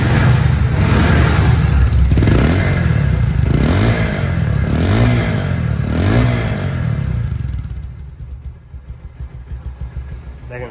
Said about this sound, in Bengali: রানিং অবস্থা আছে ইঞ্জিনটা, তারপরে কত স্মুথ সাউন্ড